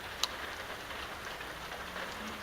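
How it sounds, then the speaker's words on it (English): Cold rain falling outdoors, a steady, even hiss that carries on throughout with one brief sharp tap near the start and no voices. "it is cold and rainy."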